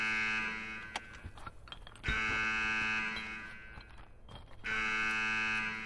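A loud electronic alarm in the video game Escape From Tarkov blares as a sustained buzzing tone with steady harmonics, briefly dipping and swelling back twice, with faint thuds and footsteps underneath.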